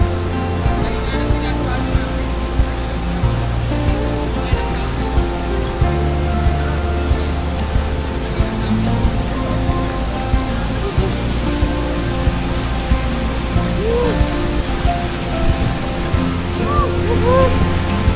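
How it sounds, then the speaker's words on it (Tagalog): Aloha Falls in Carranglan, Nueva Ecija, pours as a constant broadband roar of falling water, with faint voices and other sounds scattered through it. "Tayo dun sa falls."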